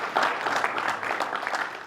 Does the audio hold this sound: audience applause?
yes